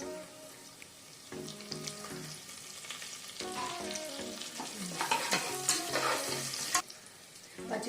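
Curry leaves, turmeric, green chillies and cashews fry in hot oil for pongal tempering, a close crackling sizzle that grows busier with stirring scrapes and sputters, without talking.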